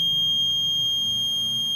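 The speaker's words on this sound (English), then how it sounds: "I'm just clicking buzzer on." A buzzer on a coal mine monitoring robot is switched on and emits a loud, continuous high-pitched electronic tone that holds steady without a break, close and alone.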